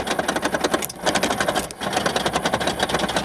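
A Saturn wagon's door lock actuator tries to lock, giving a steady buzzing, rapidly pulsing mechanical whir that runs almost continuously and dips briefly twice; close and fairly loud, with no talking.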